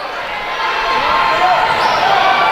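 Basketball dribbling on a hard court during a men's college game, beneath a steady roar of crowd noise and excited commentary, the bounces blurred in the din.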